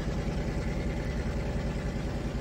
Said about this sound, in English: it does have some pretty realistic engine sounds